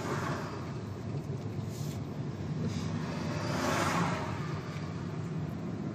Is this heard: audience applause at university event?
no